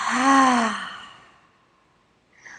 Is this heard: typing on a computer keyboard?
no